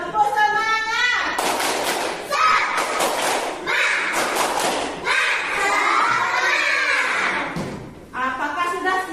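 A classroom of students repeating a rhythmic spirit clap, with patterned bursts of clapping interleaved with children chanting and shouting together, loud and close throughout.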